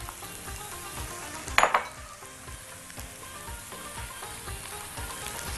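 Colored bell peppers sizzle and stir-fry with chicken strips in a hot pan, with steady frying crackle, rhythmic stirring scrapes and a sharp clatter of the utensil against the pan.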